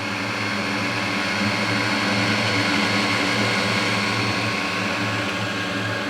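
A cheap electric supercharger runs on a bench test, giving a steady, loud, continuous whirring whine with a droning hum beneath it that holds unchanged throughout.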